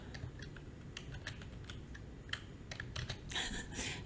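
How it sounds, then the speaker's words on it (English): A date is typed on a computer keyboard as a quiet run of irregular clicking keystrokes, close but soft, ending with a couple of firmer presses, with no voice over it. "the date, we can type in whatever today's date is"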